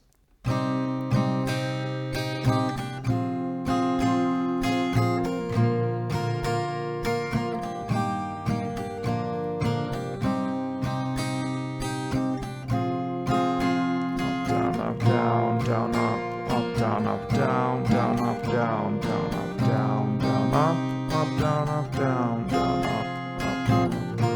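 Acoustic guitar plays a song's chord progression over several rounds, steady rhythmic strumming that grows busier and brighter in the second half, loud and close with no voices.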